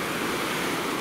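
Sea waves washing in at Cleopatra Beach, a continuous broad rushing hiss of surf with some wind, steady and fairly close, with no voices.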